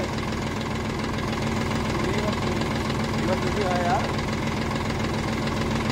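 A three-cylinder 40 hp tractor engine idles and runs steadily throughout with a knocking mechanical rumble, while voices talk over it.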